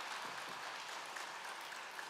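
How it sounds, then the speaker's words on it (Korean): A church congregation at a Sunday service claps for a newly elected provincial council member, a soft, fairly distant, even patter of hands. "박수 한번 쳐주세요."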